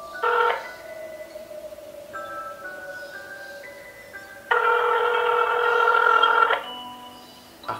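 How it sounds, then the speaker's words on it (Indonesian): An ordinary phone call connects with a few stepped electronic tones, then a steady, fairly loud ringback burst sounds alone for about two seconds before a short quiet gap. "Tapi coba gue telepon biasa aja."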